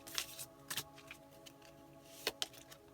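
Tarot cards shuffled by hand in close, quiet bursts, crisp riffling flutters and soft taps coming in a few short, irregular clusters with small pauses between them.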